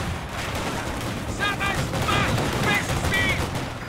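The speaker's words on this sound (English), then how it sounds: "headquarters are under fire" Gunfire and artillery rattle around a headquarters in the World War II strategy game Company of Heroes 2, a steady barrage of distant shots and booms under a busy battle din.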